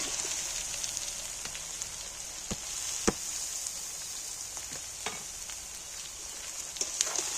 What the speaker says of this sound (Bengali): এঁচোড়টা এই তেলের মধ্যেই একটু ভাজা ভাজা হয়ে যাবে